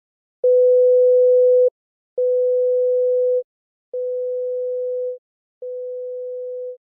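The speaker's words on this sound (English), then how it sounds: "played a series of tones at different volumes" Four steady pure tones from a hearing test, each about a second long and separated by short gaps, with every tone a little quieter than the one before, heard alone in silence.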